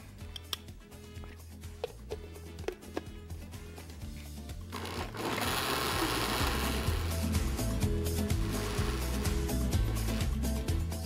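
Corn cake batter whirs in a blender, a steady loud churning that starts midway after scattered clicks and clatter of preparation.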